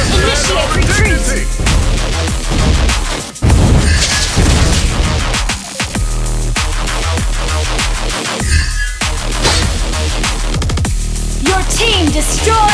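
Turret being destroyed during a Mobile Legends match, heard as dense, continuous booming blasts and crashing impacts layered over loud game music and effects, with no pauses throughout.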